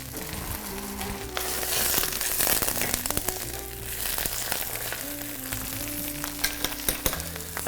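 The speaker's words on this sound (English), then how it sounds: "So what you want to hear that sizzle." Cabbage frying in hot vegetable oil in a pan: dense, continuous close sizzling and crackling with occasional sharp pops, steady and fairly loud throughout.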